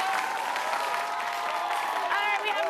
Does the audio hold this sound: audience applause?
yes